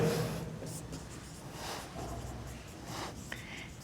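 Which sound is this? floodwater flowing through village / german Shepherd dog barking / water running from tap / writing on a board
writing on a board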